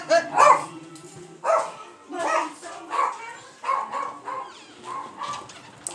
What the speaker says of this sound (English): The dog was singing. He was singing to the TV.